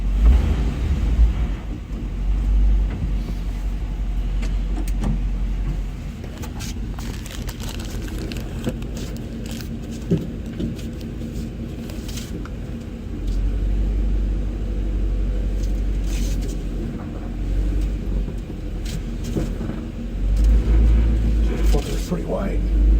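A 1964 Ford F100 pickup drives on its first ride, with a low engine rumble from inside the cab that swells and fades through the run while people talk over it.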